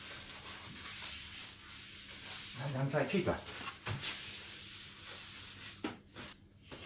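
Sandpaper rubbed over wood while building a built-in wardrobe, a scratchy back-and-forth rasp with a burst of strokes in the middle, heard close up, and someone speaks briefly over it.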